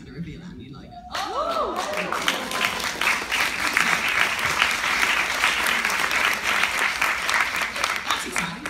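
Audience at a dance school's year launch applauding a new logo reveal, a brief exclamation giving way to sustained, dense clapping from a room full of people.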